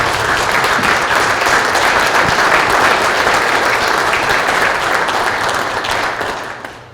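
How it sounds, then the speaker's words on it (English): A chamber of commerce forum audience gives Keith Ranger a loud, sustained round of applause, dense steady clapping filling the room for several seconds before tapering off at the end. "Keith Ranger, will you stand up and take a round of applause?"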